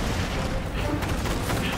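Incoming gunfire aimed at the player during the Wrath of the Machine raid's Aksis encounter in Destiny, a brief dense rattle of rapid shots with booming hits, loud and continuous.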